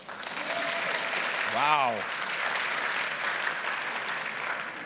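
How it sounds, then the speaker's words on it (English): An audience at a school development conference applauds a speaker, a steady wash of clapping throughout, with a single voice briefly exclaiming over it. "Thanks for the clap."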